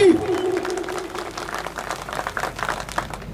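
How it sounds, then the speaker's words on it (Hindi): An audience applauds at a public speech event in Sagwara, with a burst of clapping from a crowd that continues steadily under a speaking voice. "इस बात पे जोरदार तालियां होनी चाहिए सभी।"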